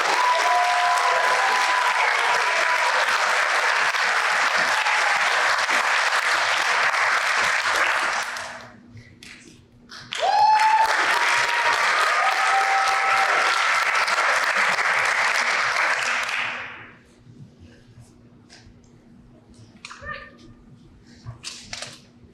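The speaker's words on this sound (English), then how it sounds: "I've given them one more round of applause." Crowd at a June 2024 law enforcement graduation breaking into loud sustained applause, two long bursts of clapping separated by a brief lull, then fading into quiet room noise with a faint voice.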